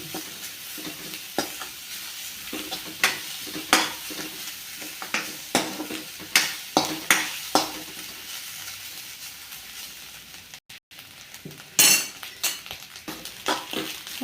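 Grated coconut being stirred and dry-roasted to golden brown in a pan for a Kerala curry, a run of close scraping, clinking spoon strokes at an uneven rhythm with a brief quiet gap, no voices.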